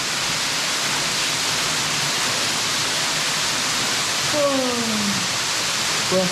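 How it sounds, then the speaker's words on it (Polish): Constant rushing roar of a large waterfall in the Adršpach rock formations, Czech Republic, fills the clip, with brief voices and a couple of short tonal sounds near the end. "Duży wodospad."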